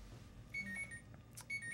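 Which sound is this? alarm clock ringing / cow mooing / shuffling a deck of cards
alarm clock ringing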